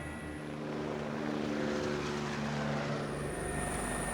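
A helicopter in flight over city streets gives a steady, loud rotor and engine drone that swells slightly and continues throughout with no talk.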